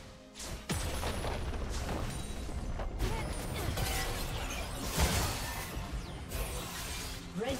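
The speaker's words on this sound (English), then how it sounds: "Team's turret has been destroyed." A turret being destroyed in League of Legends, with heavy booms, shattering crashes and whooshes piling into a loud, busy burst of game effects.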